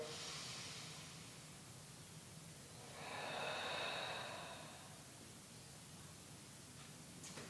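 A person breathes slowly and deeply in through the nose, a soft, close airy inhale swelling in the middle then fading, in a quiet room with no talk.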